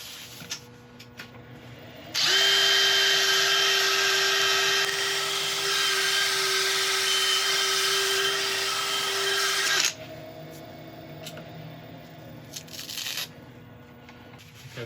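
A power tool sands a wood burl on a woodturning project. A loud, steady high whine starts abruptly, holds for about eight seconds and then cuts off, with quieter handling clicks and knocks before and after and no talking.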